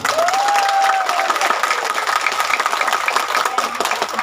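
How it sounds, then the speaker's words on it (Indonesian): Loud, dense applause rises from a crowd at a sholawat and dzikir manaqib gathering in Bojong Neros, Bumiayu, many hands clapping together with a brief voice or tone rising near the start. "ayo tepuk tangan yang kencang."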